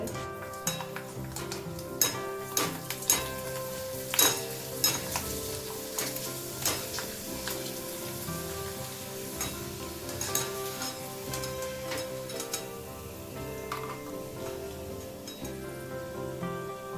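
Bhungla snack pieces frying in hot oil, a steady loud sizzle with frequent stirring and clinks of a metal utensil against the pan, no voices.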